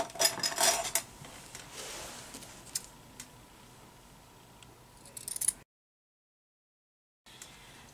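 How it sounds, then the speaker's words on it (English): Scissors trim the edge of a fleece blanket being made into a pillow cover, giving a close run of short, crisp snips and rustles with a few clinking metallic touches, then a gap of silence. "Oh, these are terrible scissors."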